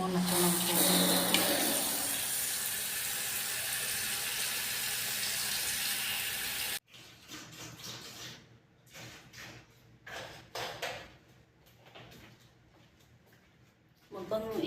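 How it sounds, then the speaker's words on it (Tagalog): Water runs from a tap into a container in a steady loud hiss for about seven seconds, then cuts off, leaving quieter handling clatter and faint background sounds. "lagyan ko muna ito ng tubig"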